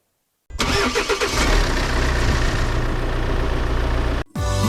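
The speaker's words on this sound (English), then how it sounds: "So I'm going to start the engine for a few minutes and then top it up again." A Volvo XC90 D5 diesel engine cranks and fires loudly up close, catching within a second and settling into a steady idle rumble before a brief cutout near the end.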